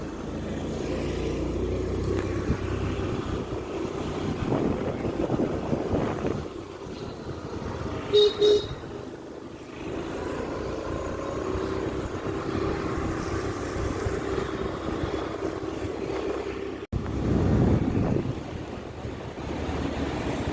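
Wind blowing outdoors in a village, buffeting the microphone in continuous rough gusts with a few brief bumps, loud and close, with no talking.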